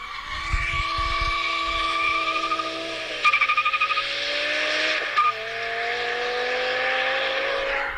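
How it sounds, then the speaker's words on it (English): A BMW V10 engine screams and climbs in pitch, drops briefly, then revs up again, loud and sustained with no talking. "That's what a BMW with a V10 sounds like."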